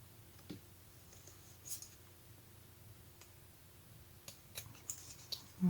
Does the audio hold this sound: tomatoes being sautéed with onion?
no